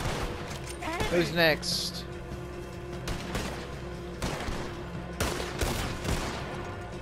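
Rapid bursts of gunfire ring out in the Red Dead Redemption 2 shootout, sharp cracking shots in clusters mixed with whooshing game effects while players talk over the action.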